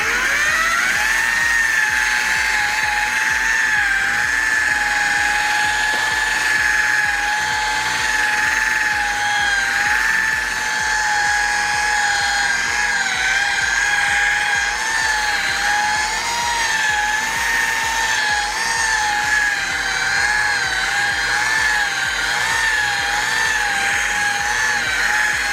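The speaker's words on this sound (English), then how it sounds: "Next we'll be using a polishing pad right here. It's a little bit softer and it cleans really good and polishes real nice. Again at about 1900 RPMs." Car polisher running at about 1900 RPM with a soft polishing pad on a car's paintwork, giving a loud, steady electric whine with a constant pitch and slight wavering, heard close and unbroken with no talking.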